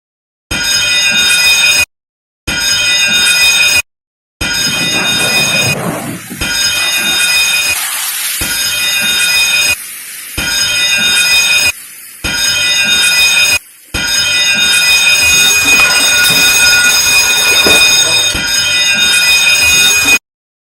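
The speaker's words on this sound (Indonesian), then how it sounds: "Alarm ini berupa general alarm dan disertai perintah meninggalkan kapal secara verbal." A loud, harsh ship's general alarm signalling abandon ship blares in long repeated blasts separated by brief silences, continuing for about twenty seconds.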